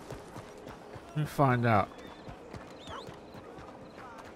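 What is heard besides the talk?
horse hooves in video game Red Dead Redemption 2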